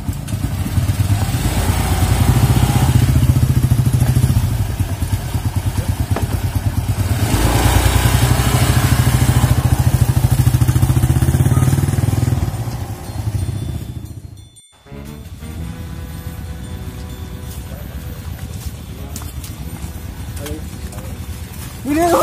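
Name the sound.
motorcycle riding past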